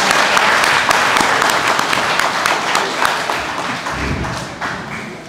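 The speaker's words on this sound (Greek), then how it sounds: "Ένα χειροκρότημα." Audience applause at a school event, a dense wash of clapping hands filling the room steadily, with scattered taps and thuds, gradually thinning toward the end.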